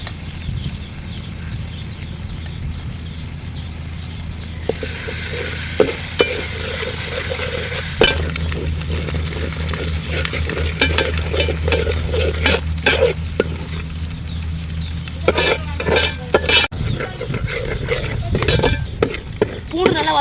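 Ginger garlic paste sizzles in hot oil with ground onions for beef biryani, a steady close frying hiss broken by scraping stirs and clinks of a spoon against the pan.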